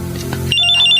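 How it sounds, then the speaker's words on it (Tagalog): A cellphone rings with an incoming call, its electronic ringtone starting abruptly and holding a steady, clear tone. "May tumatawag sa cellphone."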